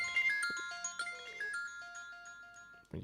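A phone rings with a melodic, chiming ringtone tune of clear electronic notes, heard alone and moderately soft, then cut off by a brief rustle at the end.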